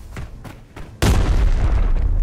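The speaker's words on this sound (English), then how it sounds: "This is my decoy in mid." Decoy grenade in Arena Breakout, a few soft thumps followed by a sudden loud boom whose low rumble sustains to the end.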